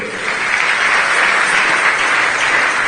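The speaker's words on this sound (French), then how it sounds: "Nous acclamons encore pour eux." A church congregation applauds together in a dense, steady round of clapping that fills the room, loud and sustained throughout.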